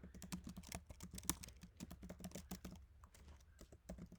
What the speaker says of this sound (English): So I'm going to type that right in